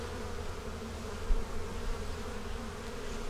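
Honeybees buzzing steadily in a hive with brood and nurse bees around a queen cell, a faint, even drone close at hand.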